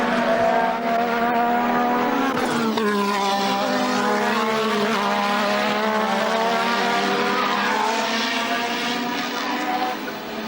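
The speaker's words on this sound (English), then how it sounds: "And here is Alboreto, or will be Alboreto, who's in 4th position on the same lap as 3rd place man Alain Prost" A Formula One race car screams past at the British Grand Prix at Brands Hatch, its high engine note dropping in pitch as it passes, then rising again through gear changes, loud and close.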